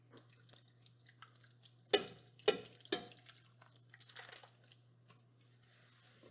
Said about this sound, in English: now we're just gonna pour our sauce on